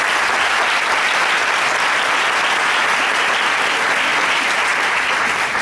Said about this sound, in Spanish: quiero que te den un fuerte aplauso por estar acá